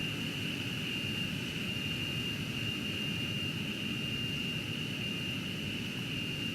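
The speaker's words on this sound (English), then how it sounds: "you can see now it's flying like a jet plane" A jet plane in the SimplePlanes video game flies with a steady, unbroken engine roar and a sustained high whine, loud and constant with no talk.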